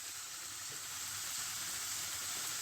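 Chicken slices frying in a pan over a gas burner, a constant soft sizzle and crackle of hot oil heard up close with no talking.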